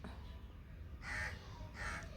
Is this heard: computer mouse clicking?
no